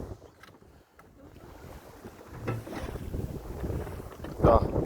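Small boat underway on cold winter water, steady rushing wash and wind buffeting the microphone, growing louder toward the end with a brief splash or slap near the close.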